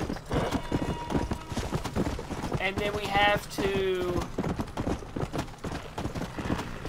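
A horse gallops in the video game Red Dead Redemption: Undead Nightmare, rhythmic hoof clip-clops with a brief whinny, beneath someone talking over the gameplay.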